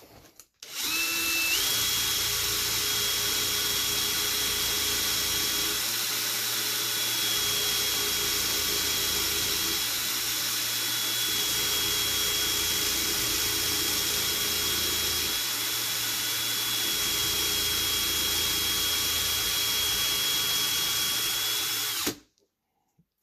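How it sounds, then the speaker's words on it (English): A power drill whines continuously at high speed for about twenty seconds, loud and close, then stops abruptly. "just grab your drill"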